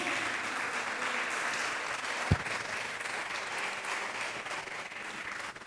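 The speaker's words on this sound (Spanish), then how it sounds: "¿Cuánto le da un fuerte aplauso a Jesús?" Church congregation applause, a steady even wash of clapping heard at moderate distance, with one sharp thump partway through.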